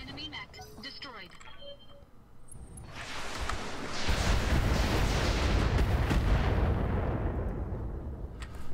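Mech weapons open fire on an enemy mech in a video game, a heavy, dense roar of booming gunfire and blasts that builds and sustains loudly for several seconds, following a short stretch of game sounds.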